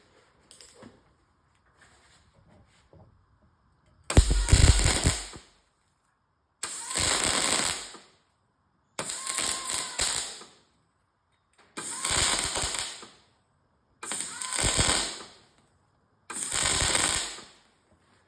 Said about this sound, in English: we're going to weld these together. Just a little tack weld again. We just need spot welds with these big pieces.